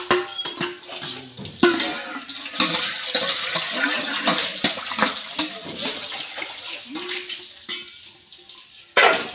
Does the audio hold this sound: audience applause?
no